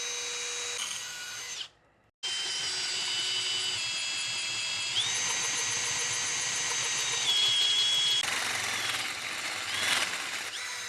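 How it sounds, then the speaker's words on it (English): Power drill with a bi-metal hole saw bores a pilot hole into a piece of metal, a loud steady whining grind with squealing overtones that stops briefly once, then resumes and runs continuously with no talk. "I'm going to go ahead and drill just a little bit of a pilot hole to start with."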